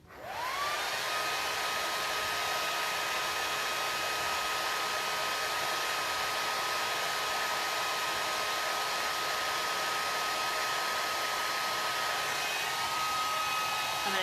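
A hair dryer blows steadily and loudly on a transfer for about fourteen seconds, a constant broadband whoosh with a steady motor whine and no talking.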